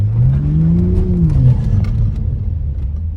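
A BMW Z4 engine pulls hard under acceleration, its intake roaring loud and close with a rising then falling whine over a deep rumble, sustained for a few seconds without any talk.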